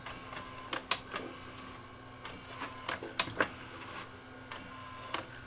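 A videotape machine rewinds on its own, apparently from a mode switch fault, giving a faint mechanical hum punctuated by scattered light clicks and ticks.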